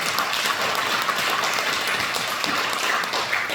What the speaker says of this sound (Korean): 우리 목사님들께 다시 한번 감사의 박수 드리겠습니다.